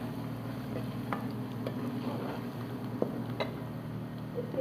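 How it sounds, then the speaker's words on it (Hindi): Garlic paste fries in a pan for a Shimla mirch goshtdish, giving a steady, close sizzle under occasional soft scrapes and clicks from stirring. No one speaks. "अब मैं डालूंगी इसमें लहसुन का पेस्ट। इसको अच्छे तरीके से फ्राई कर लेंगे।"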